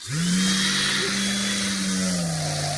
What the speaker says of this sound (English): DCW210 random orbit palm sander.